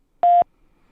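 A telephone keypad tone after pressing 1, a single loud, clean electronic beep lasting about a fifth of a second, alone against silence.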